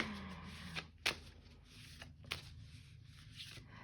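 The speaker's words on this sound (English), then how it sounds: "take a long time shuffling this deck" Quiet, irregular riffling and soft card slaps of a tarot deck being shuffled by hand, with a few sharper snaps and no talking.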